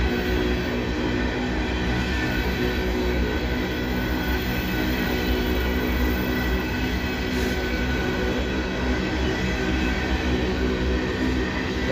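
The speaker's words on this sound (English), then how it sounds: "This is a train that's going up to Pennsylvania to load up." Freight train bound for Pennsylvania to load up, a steady loud rumble and roar of rolling cars and wheels on track, passing continuously nearby with no voices.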